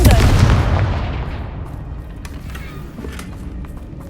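A Confringo fire spell exploding in Hogwarts Legacy, a heavy, booming blast up close that rolls and decays into a long rumbling tail, with faint crackling debris as it fades.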